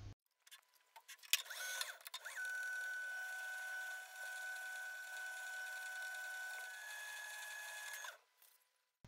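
A lathe reams a steel spindle bore for a dividing head, giving a steady whirring, whining machine tone after a few short starts. It holds at an even level for several seconds, then stops, with no talking.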